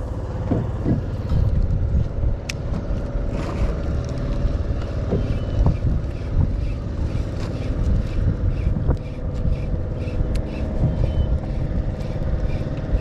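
Steady wind buffets the microphone with a low rumbling roar and occasional gusts at an open, unsheltered fishing spot, along with faint knocks and a continuous hum.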